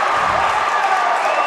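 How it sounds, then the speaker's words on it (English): A hockey crowd at a Penguin Cup 3A final roars in a dense, sustained cheer after a goal, loud and enveloping, with no clear individual voices. "Listen to the Indian crowd"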